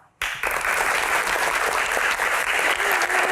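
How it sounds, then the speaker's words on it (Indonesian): A television studio audience breaks into applause for a guest, Suharyanto, on a disaster-themed Q&A program, starting abruptly after a brief hush and continuing as a loud, even wash of clapping. "Tepuk tangan sekali lagi Bapak Suharyanto"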